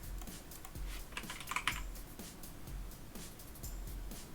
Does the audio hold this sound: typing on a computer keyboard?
yes